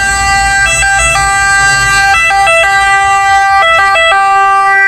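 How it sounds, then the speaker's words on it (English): A loud ambulance siren wails close by in Rome, alternating between two pitches in a repeating pattern over steady road noise heard from a taxi. "There's an ambulance."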